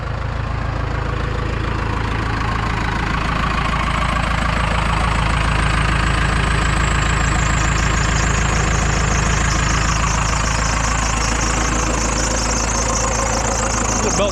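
Cummins 4BT diesel engine idling in a Tahoe, a loud, steady low rumble with rhythmic knocking clatter throughout, close to the microphone and running continuously.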